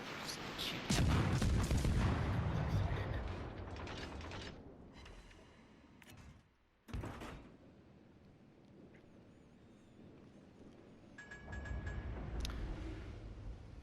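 Warship guns fire in a naval combat game, with heavy booming blasts and rumbling mechanical clatter rolling across the opening seconds, followed by a lull and another thudding report, all loud and close.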